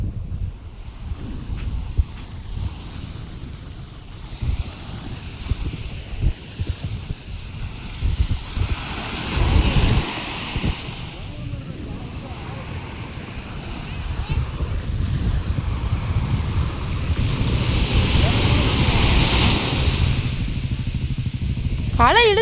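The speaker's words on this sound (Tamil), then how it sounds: "அலை இழுத்துட்டு போயிடும்." Ocean waves break and wash up on a beach in long rolling surges under steady wind noise on the microphone, loud and continuous.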